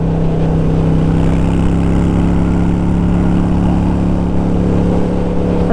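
A Harley Davidson Sportster cafe racer motorcycle being ridden, a loud continuous engine drone with a deep steady hum under heavy wind rush, no talking.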